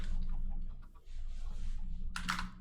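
Minecraft chickens cluck softly in a short run, with a steady low hum underneath and a brief clicking burst near the end.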